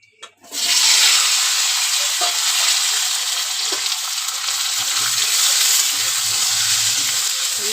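Cut potatoes and drumsticks hit hot oil tempered with nigella seeds in a wok, setting off a loud, sudden, continuous close sizzle that holds steady throughout with faint stirring clicks.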